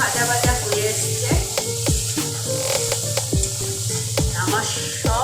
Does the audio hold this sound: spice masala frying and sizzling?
yes